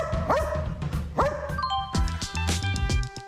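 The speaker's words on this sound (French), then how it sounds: "Sam semble reconnaître les chiffres écrits sur le tableau et aboie autant de fois qu'il y a d'unités." A dog barks several times in a row to count out digits written on a board during a TV segment, with bright chime-like tones ringing between and over the barks.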